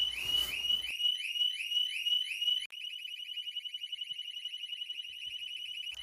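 A Harley-Davidson Street Bob 114's security alarm blares alone and loud in a shrill electronic pattern, first rising whoops repeating several times, then switching to a rapid warbling pulse.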